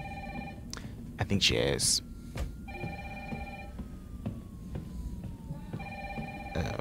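Telephone ringing in the Resident Evil 3 Remake game, heard as repeated bursts of a ringing bell tone separated by pauses, moderately loud beneath a player talking, with a brief loud noise burst early on.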